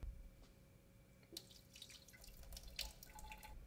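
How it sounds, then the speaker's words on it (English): Liquid chemical pouring and dripping into a sink, with scattered splashes and trickles in a quiet room, moderately close and fairly soft, with no talking. "Did you just pour out the chemical I needed?"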